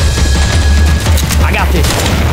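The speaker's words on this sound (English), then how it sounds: "Grenade launcher." Grenade launcher fire in the zombie shooter Left 4 Dead 2 during a tank fight, heard as dense booming blasts and crackling gunfire that keep going under a voice shouting over the action.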